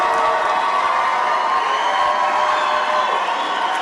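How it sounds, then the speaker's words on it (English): A large crowd at a packed event cheering and shouting in a dense, continuous roar that holds steady and loud throughout. "Look at this crowd."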